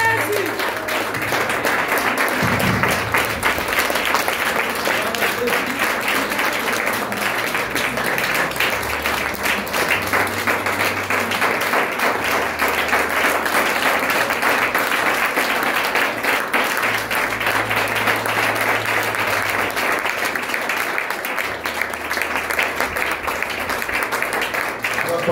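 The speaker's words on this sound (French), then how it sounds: "lève-toi et acclame le Seigneur Jésus." An audience applauding during a church service in Morocco, a sustained, dense wash of clapping that carries on steadily throughout, with voices calling out underneath.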